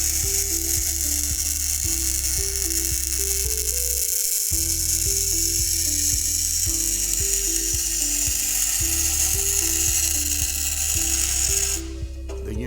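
An NAP Universal Welder, an automated machine for welding threaded and grooved outlets onto pipe, runs with a steady, loud mechanical clicking and ratcheting rhythm over a constant hum, with a brief pause midway.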